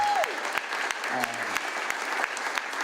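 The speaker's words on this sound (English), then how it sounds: "Give Bobby a round of applause for all that you've done" At a Memphis Music Hall of Fame ceremony, an audience claps for an honoree, steady applause from a crowd with faint voices underneath.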